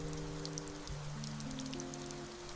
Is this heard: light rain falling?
yes